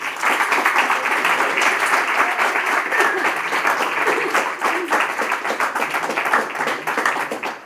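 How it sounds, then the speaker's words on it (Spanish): Sustained, dense applause from a school audience after high school students present their projects, including work on cryptography and the Enigma machine, steady and close from start to finish with no break. "Un aplauso para ellos y os dejo."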